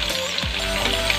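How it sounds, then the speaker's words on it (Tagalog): Steady, close sizzling of tomatoes and onions sautéing in hot oil, a dense crackling hiss that continues without pause. "ginigisa ko muna yung kamatis tsaka sibuyas"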